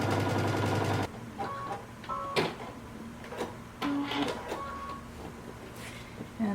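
A sewing machine stitches the side seams of a mini dress in a short, loud burst at the start, followed by quiet clicks and handling noises of the fabric and machine.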